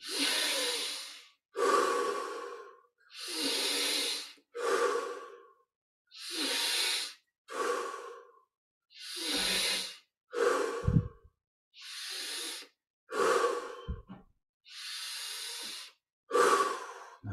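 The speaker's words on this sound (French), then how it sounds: "on augmente progressivement l'intensité, ou plutôt l'amplitude des respirations" Deep breathing during a yoga meditation exercise: about ten long, close inhales and exhales in a slow, even rhythm, each breath a loud airy rush separated by brief silences.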